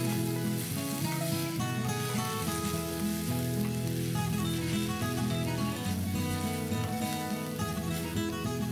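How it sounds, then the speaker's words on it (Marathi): Three finely chopped onions fry in a pan with garlic, a steady, faint sizzle with soft crackles all the way through and no talking. "कांदा छान परतून झालाय."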